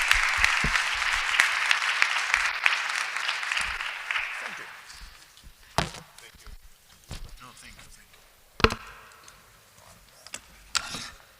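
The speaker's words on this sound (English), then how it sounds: "please, an applause for all of them" Audience applause at a conference on ending impunity for crimes against journalists, with dense sustained clapping over the first four seconds that then fades to scattered handling noises and a few sharp knocks.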